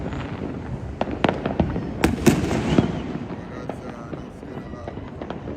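Fireworks bursting on New Year's Eve in Trinidad, a rapid scatter of sharp cracks and pops, some loud and near, others distant, over a steady crackling backdrop with someone speaking briefly.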